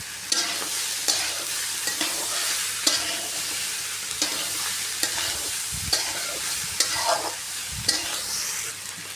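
Goat tripe frying in a pan while being stirred, a steady close sizzle broken by repeated scraping strokes of the spoon throughout, with no voices.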